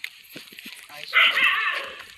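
A dog gives a drawn-out whimpering, whining cry after a few short sounds, fairly close, with people talking around it.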